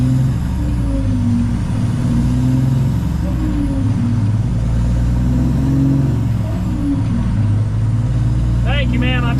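A Peterbilt 379 truck with a Cummins ISX engine in need of a rebuild drones loud and steady from the cab on the road, with faint voice fragments under the engine and a brief squeal near the end.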